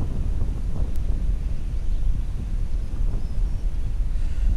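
Strong wind buffets and roars against the microphone in continuous low gusts, with nothing else clearly audible.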